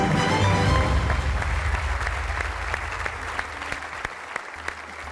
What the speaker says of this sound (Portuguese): Um aplauso para o Gonçalo.